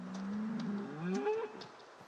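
A cow in a video game moos once, a long, drawn-out low call that bends in pitch, fairly close and alone with faint background clicks.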